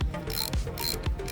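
A ratchet wrench tightens a bolt on the differential of a Datsun 280ZX during a limited-slip differential swap, giving three quick clicking ratchet strokes in steady rhythm, close and alone.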